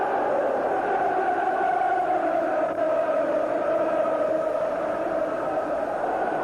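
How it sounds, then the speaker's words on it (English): Football crowd at a Newcastle United v Swindon Town FA Cup fourth round match, singing in a sustained, steady roar that fills the stadium with no break. "As the crowd burst into song and the team responds"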